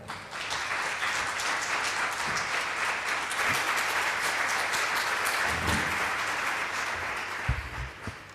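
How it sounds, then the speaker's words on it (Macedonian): An audience at a debate event applauds the two teams with sustained, dense clapping that holds steady for several seconds and then fades, with no voices over it. "Ве молам еден аплауз за двата тима"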